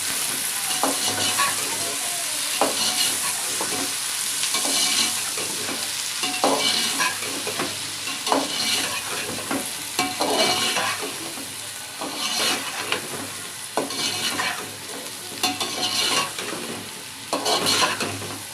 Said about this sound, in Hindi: मेरे प्याज ब्राउन हो चुके हैं, इसमें मैंने टमाटर ऐड करने हैं और आलू भी साथ में ऐड करने हैं